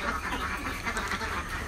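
Ducks kept in a battery cage quack in a short, dense, overlapping burst, several birds calling at once against a noisy background.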